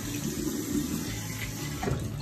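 Cold tap water runs steadily into a sink while someone rinses their face, a continuous close splashing wash with no talking.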